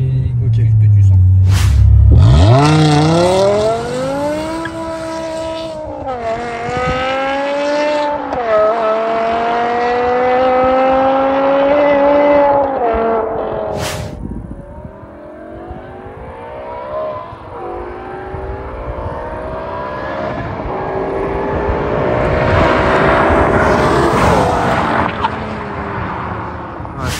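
A BMW M5 E60 with its V10 engine revs hard and accelerates in long rising sweeps, loud and close, with a brief tire chirp at the start and a gear change midway.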